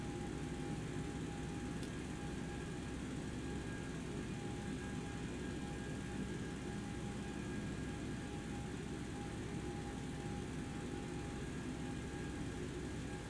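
A turbine engine spools up in the X-Plane 11 flight simulator, a steady broadband rush with a sustained whine, even and continuous from the cockpit with no voices.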